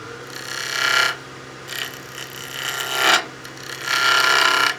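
A skew chisel makes V-cuts into a wood spindle turning on a lathe to shape an ogee, giving four or five rough, scraping cutting bursts between quieter spinning passages. The cuts are close and fairly loud.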